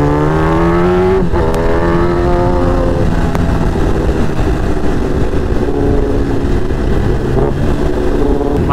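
A Kawasaki ZX-10R sport bike engine running while being ridden in medium mode, loud and close, with a steady high drone, rising pitch sweeps as it revs through gears, and constant wind rush.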